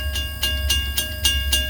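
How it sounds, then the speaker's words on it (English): A Kiamichi Railroad train rolls past close by in Oklahoma, its cars giving a steady, evenly spaced clatter over rail joints above a deep, continuous rumble. "My friend was driving that train."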